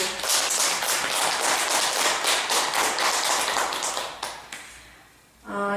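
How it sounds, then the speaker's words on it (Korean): An audience at a Beopwangsa hundred-day Dharma lecture gives the head monk a round of applause, dense rapid clapping that holds for about four seconds, then thins out and fades as a voice starts. "저는 먼저 이제 주지스님께 먼저 박수를 드리고 싶어요. 자, 박수."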